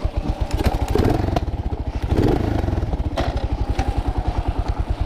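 A Suzuki Savage 650 motorcycle engine runs close by with a loud, thumping single-cylinder beat, its pulses steady and rhythmic throughout with a few louder surges.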